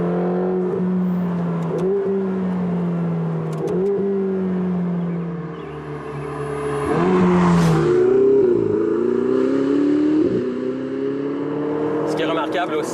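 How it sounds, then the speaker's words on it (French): A 2022 Ferrari 488 GTB's turbocharged V8 drones with a muffled, slightly dull tone, holding steady before swelling into a louder rev midway and settling back. "c'est un son qui est un petit peu plus sourd en raison effectivement des turbos"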